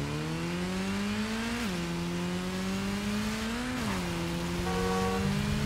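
A motorcycle engine revs in Gotham Knights as a steady, close drone that rises in pitch, dips at gear changes and climbs again.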